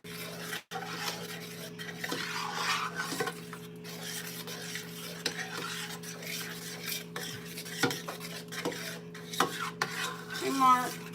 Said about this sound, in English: You gotta stir that out.